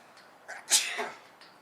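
A single sharp sneeze bursts out near the microphone, a quick intake followed by a loud, breathy explosion that trails off into quiet room tone.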